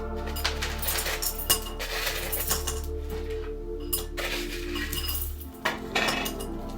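Rocks are set into a glass vase around flower bulbs, giving repeated light clinks and clicks of stone against glass at an uneven pace, fairly close and quiet.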